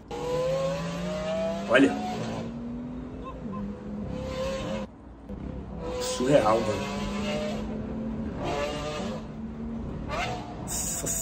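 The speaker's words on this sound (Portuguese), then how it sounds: "é absurdo o barulho desse carro" A Lamborghini Aventador engine revs hard in repeated bursts, loud and close with rising harmonic whine, rev blips separated by short drops, while someone talks excitedly over it.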